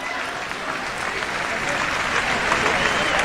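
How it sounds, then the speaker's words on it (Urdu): An audience at a poetry mushaira in Dubai breaks into steady, full applause that swells slightly toward the end, with a voice faintly present beneath the clapping. "اپنے لیے بھرپور تالیاں بجا لیجئے."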